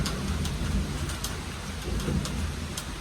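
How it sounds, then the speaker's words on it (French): Steady rain falls through a thunderstorm, with dense patter and low rumbling of thunder throughout, fairly close and even, with no voices. "Ça fait du bien, ça rafraîchit, il pleut."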